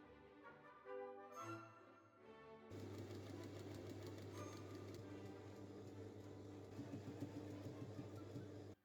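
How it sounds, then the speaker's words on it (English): A sewing machine stitches bias tape onto a detachable sleeve, giving a steady mechanical whir with rapid, even ticking. It runs continuously after a brief, quieter tonal opening. "I then folded over the other side of the bias tape and sewed it in place."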